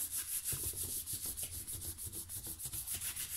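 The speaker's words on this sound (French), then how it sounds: "On essuie s'il y a de la colle qui dépasse." Excess glue is wiped off a folded paper squash card, a close, quiet rhythmic rubbing with quick repeated strokes and no voices.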